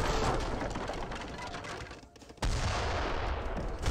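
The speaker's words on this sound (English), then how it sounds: "And there goes the heavy cannon." Heavy cannon fire in Age of Empires 3, dense overlapping booms and battle gunfire, loud and continuous with a brief dip before resuming.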